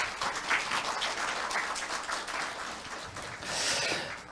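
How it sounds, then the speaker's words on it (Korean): An audience at a university forum breaks into sustained welcoming applause, many hands clapping together in a dense, continuous patter that swells slightly toward the end. "우리 서로를 환영하는 환영의 박수 부탁드리겠습니다"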